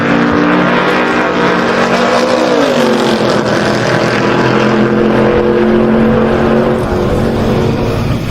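Twin-turbo Coyote-swapped drag car roaring loudly down the strip at Sick Week 2024 after a brief wheel stand, engine note sustained and steady with a slight pitch shift as it pulls away, no talk.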